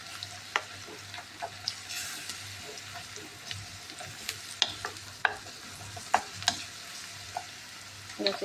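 Ground onion, garlic and ginger cook in a pan for shiro, with a soft steady sizzle broken by repeated sharp clicks and scrapes of a stirring utensil.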